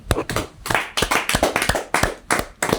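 A pair of hands claps sharply and close by, in quick irregular bursts of two or three claps.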